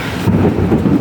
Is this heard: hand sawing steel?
no